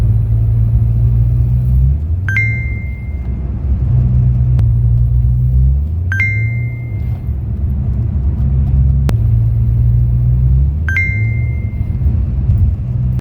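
2005 MG ZT diesel car with a badly slipping clutch, a steady loud engine drone whose pitch climbs and resets in three long cycles while the car moves, with faint clicks.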